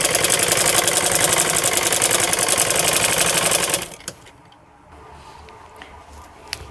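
A sewing machine stitches along a folded hem on a wrap trouser, a loud, fast, rhythmic mechanical chatter that runs steadily for several seconds and then stops, leaving quiet handling noise.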